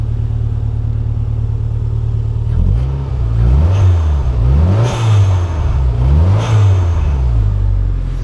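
A cold Toyota MR2 Turbo engine idles steadily, then is blipped in about three quick revs that rise and fall, loud and close, with no talking.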